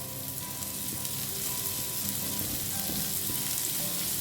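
Steady, dense sizzling of one large chopped onion frying in a hot pan, a continuous crackle with no voices.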